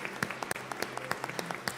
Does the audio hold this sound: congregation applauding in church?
yes